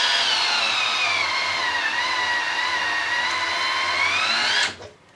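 A Festool CXS cordless drill/driver on low speed drives a lag bolt into maple with a steady, close, high motor whine lasting about five seconds, then stops abruptly with a brief clunk.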